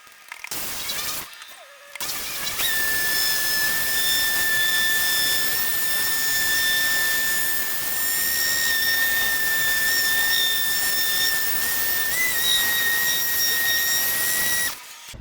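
Car paint polisher running at speed 6 during paint correction on a BMW M3, a loud steady high-pitched whine that starts after a short sputter and runs continuously, then cuts off at the end.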